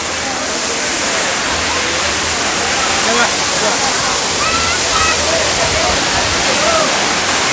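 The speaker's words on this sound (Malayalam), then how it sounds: "അല്ലാന്നുണ്ടെങ്കിൽ നല്ല ഭീകരമായിട്ട് അടിപൊളിയായിട്ട് വെള്ളം ചാടുന്ന ഒരു സ്പോട്ട് തന്നെയാണിത്." Iruppu Waterfall in Karnataka pours down with a loud, continuous roaring rush of falling water, dense and steady from start to finish.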